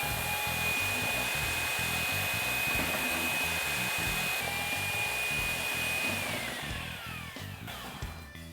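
Tile grout is mixed with a power drill and paddle, making a loud, steady, high whine that holds nearly the whole time before winding down and fading at the end.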